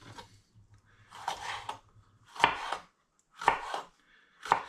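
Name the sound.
chopping vegetable finely on a board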